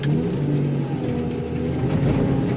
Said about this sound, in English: here's a funky Chevy truck going down